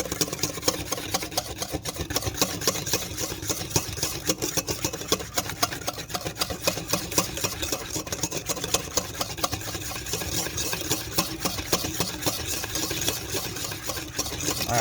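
Hollandaise sauce being whisked by hand in a bowl, a steady, fast scraping and ticking that runs without pause for the whole stretch, fairly close and with no talk over it.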